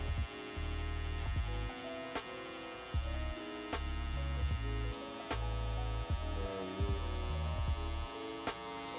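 An electric hair trimmer buzzes during a mid fade haircut, a steady close mechanical hum that stutters and changes pitch in short rhythmic segments as it moves through the hair.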